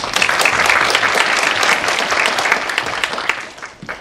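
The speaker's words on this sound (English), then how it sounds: "let's still give Professor Kennedy a big round of applause" Lively audience applause for Professor Kennedy at an invited lecture, a loud, dense burst of clapping that holds steady for a few seconds before tapering off.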